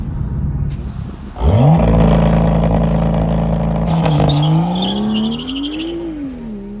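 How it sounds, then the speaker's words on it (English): A BMW M2 launching hard with launch control: the engine holds a loud, steady high rev, then the car pulls away with a rising, surging engine note that fades slightly as it accelerates off, with faint tire noise. "fully depress the accelerator. And release the brake."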